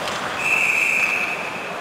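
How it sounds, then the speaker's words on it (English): A referee blows a single sustained whistle at an NHL ice hockey game between the Colorado Avalanche and New York Rangers in New York City. The bright blast lasts about a second over a steady arena crowd hum. "And we got a whistle, hand pass called"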